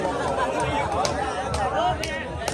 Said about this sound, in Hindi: भीड़ देखो कितनी सारी भीड़ हो गई।